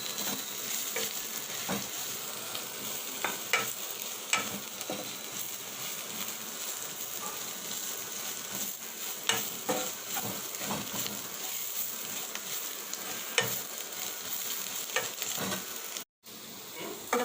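Beans fry in a pan, a steady close sizzle broken by repeated scraping and clacking strokes as they are stirred, with a brief gap near the end.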